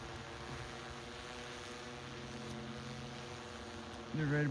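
A DJI Matrice 210 drone hovers nearby with a faint, steady tonal whine from its propellers, and the pitch rises noticeably near the end.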